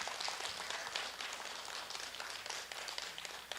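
At a certificate ceremony for a young composer, applause spreads through the room as a dense, continuous wash of many hands clapping. The sound stays faint and somewhat distant throughout.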